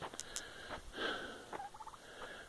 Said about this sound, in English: Turkeys are already in there, having a little late night snack.